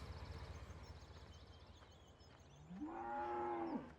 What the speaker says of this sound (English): cows and pigs and sheep back in here